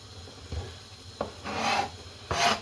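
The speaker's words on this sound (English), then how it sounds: "And the pineapple, we're just going to cut a little bit off" A knife cuts a piece off an underripe pineapple in a few short rasping strokes, close and quiet, separated by brief pauses.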